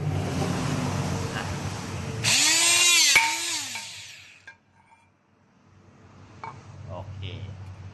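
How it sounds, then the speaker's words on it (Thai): A THAIWIN HP25S hydraulic puncher with an 18 mm die punches through the bottom of a 3-inch steel rain gutter. A loud, close motor whine rises and dips for about two seconds with a sharp crack at the punch, then fades into quiet handling clatter. "เดี๋ยวลองเจาะอีกส่วนอีกด้านของราง อันนี้จะเจาะตรงส่วนท้องครับ"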